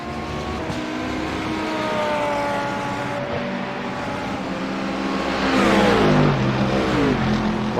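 Grand touring race cars battle closely on a circuit, engines wailing and shifting pitch as they rev and accelerate near and loud, with one car sweeping past late.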